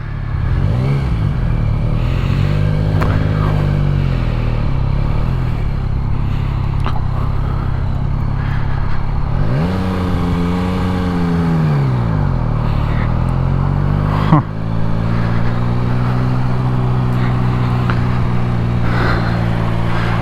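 A 2022 Yamaha MT-09 motorcycle rides off and accelerates, engine rising and dropping through several gear changes, close and loud with steady wind and road noise and no talking.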